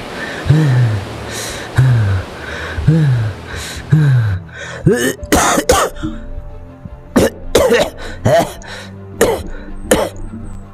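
Two characters cough repeatedly on seaside rocks in a Filipino aswang action audio drama, after strong waves roll them ashore. Strained voiced gasps come first, then a run of sharp, loud, close coughs in uneven bursts.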